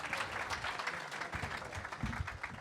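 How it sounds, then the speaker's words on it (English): A comedy roast audience applauding, a dense and continuous patter of many hands at moderate distance, with faint low crowd noise underneath and no clear talk. "Give him another round of applause."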